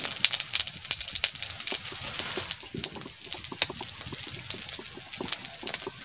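Cumin seeds hit hot oil in a pan and sizzle with dense, crackling pops and spits, close and continuous, after fish has been fried.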